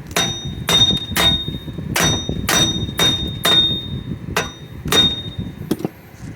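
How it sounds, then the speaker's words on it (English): Sharp metallic hammer blows knocking out a front wheel bearing on a third-generation Lexus IS ring out one after another in an uneven rhythm, about ten close, loud strikes with a bright clanging ring. "I gotta just use a hammer and knock the crap out of it."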